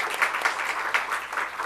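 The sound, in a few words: congregation applauding in encouragement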